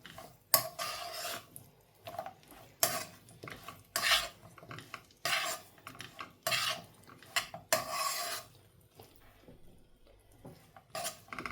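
Date biscuit mixture stirred and pressed in a pan over low heat, a string of distinct scraping and clinking strokes of a spoon against the metal pan, close, separated by short quiet gaps.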